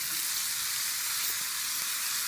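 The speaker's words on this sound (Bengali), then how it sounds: "এখন আমি আলু ছাড়ি দিই।" Potatoes added to reddened frying onions in a pan for aloo bhaji, producing a loud, dense, unbroken sizzle at close range with faint stirring underneath.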